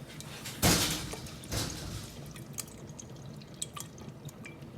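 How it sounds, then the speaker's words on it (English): Homemade coconut milk splashes into Jamaican rice and peas in two short pours, followed by soft scattered drips, close and fairly quiet. "So I'm gonna add 2 cups of coconut milk to it."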